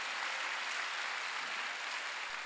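Steady applause from a church congregation during a Wednesday worship service, a dense continuous wash of many hands clapping at moderate distance, with no talking over it.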